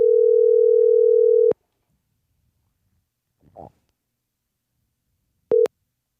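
A phone call goes straight to voicemail: a steady tone for about a second and a half, silence with a faint bump, then a short beep.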